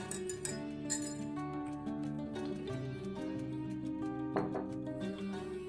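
Spoon clinking against a glass while stirring honey into a drink, a quiet run of repeated ringing taps with no talk.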